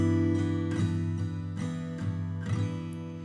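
A fingerpicked acoustic guitar chord rings with alternating bass notes in a steady, gentle rhythm, soft and alone, fading at the end.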